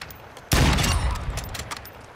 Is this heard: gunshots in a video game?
yes